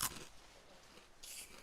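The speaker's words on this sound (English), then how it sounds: "That's a good crunch." Veggie straws crunched while eating, very quiet and close: a brief crisp crunch at the start and a second one near the end, with soft near-silence between them.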